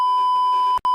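A steady electronic censor tone bleeps out a spoken word. It sounds loud and continuous for about a second, breaks off briefly near the end and then returns.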